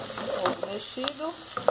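Scrambled egg frying in a pan, a soft crackling sizzle broken by short scraping stirs and small utensil clinks, close and fairly quiet, with no voices.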